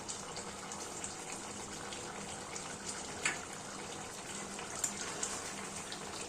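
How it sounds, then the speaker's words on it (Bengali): Kashmiri chicken kanti curry bubbling steadily in a pot, a continuous soft watery simmer with a few faint clinks of stirring, no voices. "আবারও একটু নাড়াচাড়া করে মাংসটা আমরা ভালো করে ফুটিয়ে নেব"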